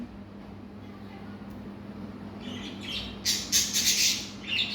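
Harsh bird squawks burst out in the second half, loud and repeated, over a steady low hum and background murmur.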